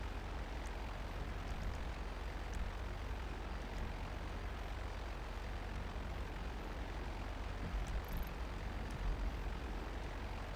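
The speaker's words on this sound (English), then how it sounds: "I think I hear a jet, but I can't tell for sure." A jet aircraft in the video game GTA Online droning overhead, a steady broadband roar that holds for the whole stretch at moderate level, with no talk.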